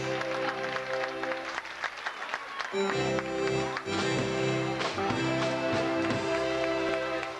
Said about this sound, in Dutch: Applaus voor elkaar.